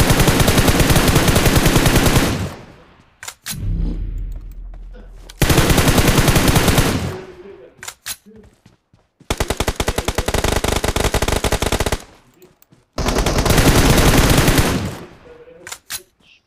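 Automatic gunfire in the mobile battle royale game PUBG Mobile, in several loud sustained bursts separated by short pauses.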